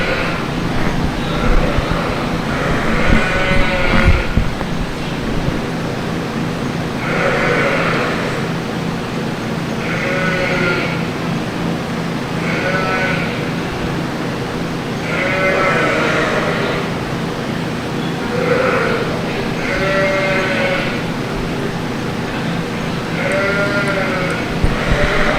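Oxford sheep bleat repeatedly at a youth breeding sheep show ring, a series of wavering calls spaced a few seconds apart over a steady crowded-barn background hum.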